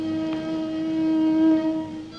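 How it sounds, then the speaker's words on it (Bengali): A train horn holds a long, steady tone over the low rumble of a train. "ট্রেন তো ছাড়ছে।"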